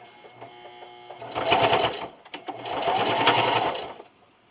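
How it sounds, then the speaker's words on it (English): A sewing machine runs top stitching about an eighth of an inch from the edge of a fabric rollup silverware holder, in two sustained bursts of steady whirring and rapid needle chatter separated by a short pause, close and fairly loud. "I'm over here at my sewing machine again, and I'm going to get probably an 1/8 of an inch away from the outside here with my top stitching"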